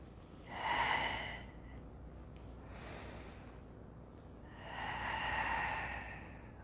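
Three slow, audible exhalations during a back-relaxation breathing exercise, each a soft airy whoosh close to the mic, the first and last fuller, separated by quieter breath.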